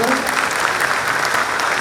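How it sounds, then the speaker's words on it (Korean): Audience applause at the inauguration ceremony for NC Dinos manager Lee Ho-jun, a dense, steady wash of many hands clapping, loud and close, continuing evenly throughout. "박수 부탁드리겠습니다."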